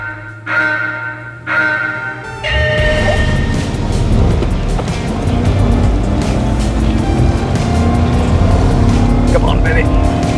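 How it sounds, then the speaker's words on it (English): A Land Rover Defender V8 climbs a hill off-road, its engine swelling from brief bursts into a loud, sustained roar with rattles and strain, and voices are heard over it. "We're gonna do our very best to beat that heavy G63 up the hill."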